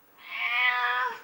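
A house cat gives a single clear meow lasting about a second, close and alone with no talk over it.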